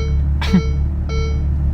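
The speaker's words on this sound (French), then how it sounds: "t'as même une petite alarme tout simplement" Two short electronic beeps from a car's dashboard alarm sound over a steady engine hum after switching into race mode, one around the middle with a brief whoosh, another shortly after, clear and close.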